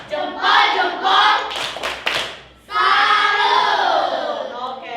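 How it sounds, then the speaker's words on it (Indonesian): Classroom audience clapping in bursts, loud and close, with cheering voices, a short pause, then a longer sustained round of applause. "Tepuk tangan untuk kita semua dulu. Beri tepuk tangan."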